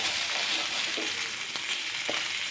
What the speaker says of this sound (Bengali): দুই সাইডে ভেজে নিচ্ছি ভালো করে।